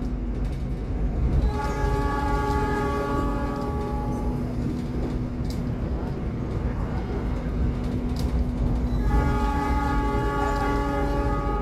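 Argo Wilis passenger train running straight through Sepanjang station in Indonesia, a loud continuous rumble of wheels and cars with two long blasts of a multi-tone horn, one early and one near the end.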